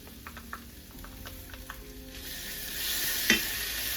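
Garlic and ginger paste sizzles steadily in a pan with browned onions, a close, continuous frying hiss that swells louder toward the end, with a few soft stirring taps.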